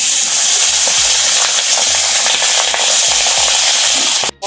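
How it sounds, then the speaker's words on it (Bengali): Fish frying in hot mustard oil in a wok, a steady loud sizzle with scattered crackles and pops running throughout, cutting out briefly near the end. "বন্ধুরা, কড়াইতে তেল গরম হয়ে গেছে। এখন আমি ভেজে নেব মাছগুলোকে।"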